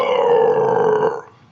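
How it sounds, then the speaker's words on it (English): A single long, low, throaty burp lasts about a second before trailing off, loud and close with no talking. "Like, we got to burp."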